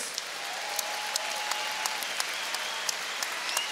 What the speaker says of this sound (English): a big round of applause for both fighters in here tonight